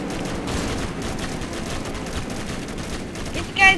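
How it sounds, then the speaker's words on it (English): Gunfire in the Roblox game Mad City, a steady dense stream of rapid game shots that runs the whole time at moderate level, with a louder burst near the end. "Why is this guy shooting?"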